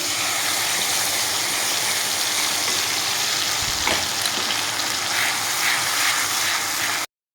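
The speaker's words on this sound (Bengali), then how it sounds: "এখানে দিয়ে দেবো করে রাখা মশলা পেস্টটা" Spice paste fries in oil with chopped, lightly fried tomato over a cumin tempering, a steady broadband sizzle that holds evenly for several seconds before cutting off.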